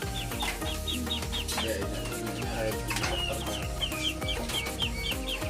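Chickens cluck repeatedly in a busy farmyard, several birds overlapping with short rhythmic calls, moderately close.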